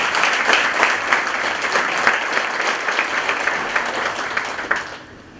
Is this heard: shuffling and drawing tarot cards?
no